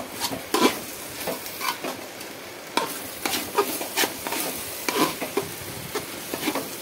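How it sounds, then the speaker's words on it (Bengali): A spoon scrapes and stirs khichuri in a pot in repeated irregular strokes, with a soft sizzle underneath. "দেখো এইভাবে কিন্তু ভালো করে নাড়াচাড়া করতে হবে"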